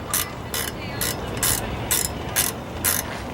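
A ratchet wrench works loose a fitting on a 4BT Cummins engine's turbo, seven evenly spaced bursts of quick clicking over a steady low background hum, close and loud.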